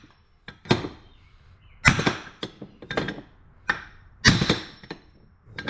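A hammer strikes repeatedly on the water pump pulley of a Nissan Titan in irregular sharp metallic blows, some of them doubled, close and loud.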